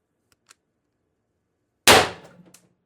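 A single sharp report from a Mercury Rise IntruBuster G2 airsoft gun on 1000 psi HPA with a short HD24 ASA, firing once up close after near silence, followed by a brief mechanical rattle.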